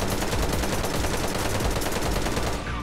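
Rapid automatic fire from an HK417 MOD3A rifle with a reflex sight in the shooter game Special Force 2, a dense loud unbroken burst of shots close up, with no talk.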